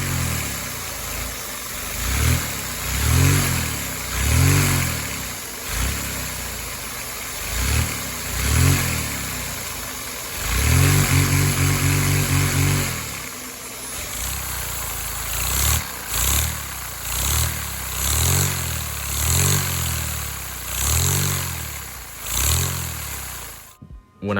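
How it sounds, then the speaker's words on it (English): A small homemade dual rotary valve model engine revving smoothly in a workshop, loud and close, rising and falling in a series of repeated throttle blips with a sustained high-rev stretch in the middle. "Its simple but unique design allows for incredibly smooth revving with a cool sound."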